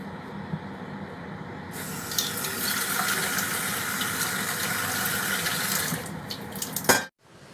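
Tap water runs steadily to wash eggs in a home kitchen, a broad, loud hiss of flowing water lasting several seconds before cutting off abruptly, with no talking.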